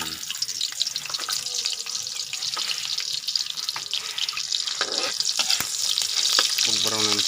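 Pork chop sautés in a hot pan for adobo, a steady sizzle broken by sharp scraping and clicking stirs, with a wet, watery edge near the end.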